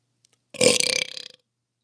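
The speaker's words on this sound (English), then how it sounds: "That's a water burp. That's not a food burp." A single loud burp after drinking water, close to the microphone and alone in near silence, opening abruptly and trailing off in a short croaky rattle.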